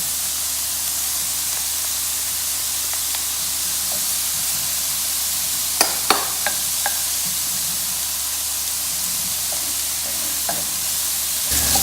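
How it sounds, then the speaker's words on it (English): Onions and garlic sizzle in a pan for chilli con carne, a steady close hiss with a few sharp clicks of stirring near the middle and no voices. "I'm going to put the onions in and let them cook for a minute or so, and now I'm going to add the garlic"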